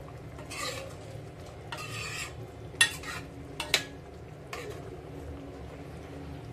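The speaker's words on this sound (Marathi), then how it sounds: "गरम मसाला मिक्स करून घेऊया." Garam masala is stirred into a king fish curry in a pan, with a spoon scraping and sloshing through the thick gravy in short bursts and a couple of sharp clinks against the metal, fairly quiet and close.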